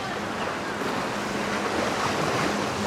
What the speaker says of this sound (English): Water's kicking up because of Oasis of the Seas out here.